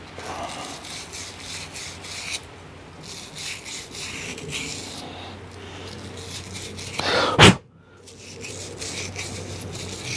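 Wire brush scrubbing a bike part during a clean-out, giving uneven bursts of close, gritty scrubbing with short pauses and a sharp clunk near the end.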